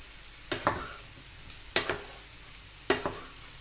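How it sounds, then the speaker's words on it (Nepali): Chicken for Chicken Manchurian is stirred in a sizzling pan, three sets of sharp scraping strokes over a quiet, steady frying hiss. "मिक्स गरेर यसलाई 2 मिनेट जति पकाउने।"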